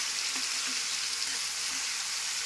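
Brinjal fries in oil in a pan for a brinjal palya curry. A steady, bright hiss of sizzling oil fills the whole stretch, loud and close, with faint stirring and no speech.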